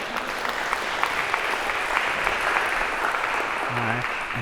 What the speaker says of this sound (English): maybe a round of applause to break the awkwardness here